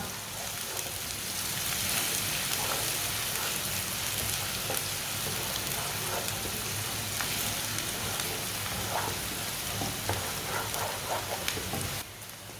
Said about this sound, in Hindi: प्याज को हल्का सा ब्राउन कर लेंगे, ऐसे ही चम्मच चलाते हुए इसे ब्राउन करना।